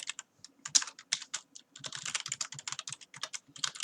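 Data is typed into an Excel spreadsheet on a computer keyboard in quick, irregular bursts of light key clicks, quiet and close, with short pauses between words and no voices.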